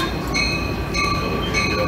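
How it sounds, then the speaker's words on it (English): A passenger train arrives at Raleigh station, its rumble and steady rail noise filling the air with high squealing wheel tones rising and falling throughout, loud and close. "The next train that will approach the Raleigh station is train number 76."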